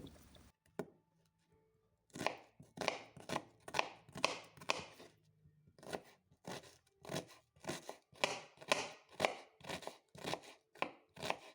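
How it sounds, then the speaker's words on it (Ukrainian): A kitchen knife chops an onion into small cubes on a board, giving a rapid series of crisp, close, moderately loud strikes in uneven bursts with brief pauses, with no talking. "Цибулю наріжу на маленькі кубики."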